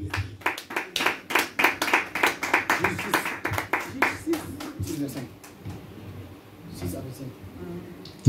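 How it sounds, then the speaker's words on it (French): Church congregation clapping in a burst of dense, rapid applause that peaks early and then thins to scattered claps, with voices murmuring underneath. "Est-ce qu'on peut acclamer pour la gloire de Dieu?"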